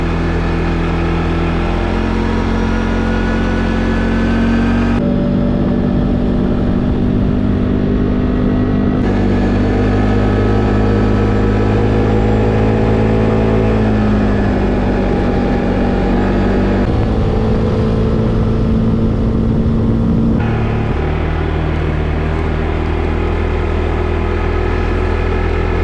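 A 2022 CFMoto CForce 500 ATV engine running steadily on a dirt road, a loud continuous drone that rises and falls as the throttle shifts through the ride, with no talking.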